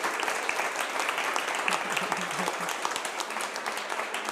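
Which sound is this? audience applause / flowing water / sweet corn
audience applause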